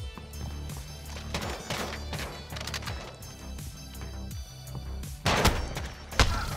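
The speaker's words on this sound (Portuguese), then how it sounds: "Tem uns tiros que era muito pra acertar e não acerta" Gunfire in a Modern Warfare 2v2 match, with bursts of sharp shots and impacts, including heavy pistol fire, mixed with clattering game effects, moderately loud and uneven in rhythm, no talk.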